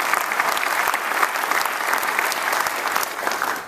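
Loud, continuous crowd applause at the grand opening of a Salvation Army Freedom Center, a dense wash of many hands clapping at steady strength without pause.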